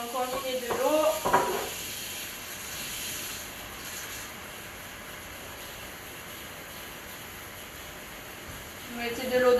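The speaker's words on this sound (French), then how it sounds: "Donc là, ça mijote." Vegetarian Bolognese sauce simmering in a pan, a soft continuous bubbling hiss with a few stirring and utensil clinks near the start and end.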